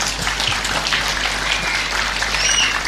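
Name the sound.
audience applause for the speaker Buya Rosi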